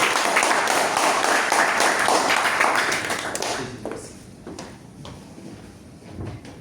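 Audience applause at a Toastmasters club meeting as a speaker is welcomed on stage, dense clapping for about three and a half seconds that then thins out and fades to scattered claps and room noise.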